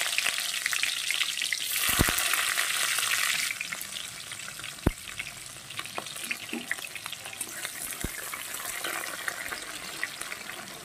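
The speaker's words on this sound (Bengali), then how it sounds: "পেঁয়াজটা একটু ভাজা হতে থাকুক বন্ধুরা" Chopped onion frying in a pan with cumin seeds gives a steady, close sizzle that runs throughout, with occasional sharp clinks of stirring.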